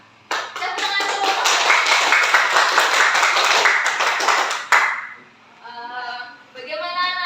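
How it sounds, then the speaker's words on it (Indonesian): A class of students applauding together in a classroom, a dense burst of hand claps lasting about four seconds, then fading as children's voices respond in unison. "Tepuk tangan dulu."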